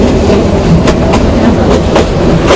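A train runs along the line at Kaunia railway station in Rangpur, Bangladesh, with a steady rumble and rhythmic clickety-clack of wheels over rail joints, close and loud throughout without talk.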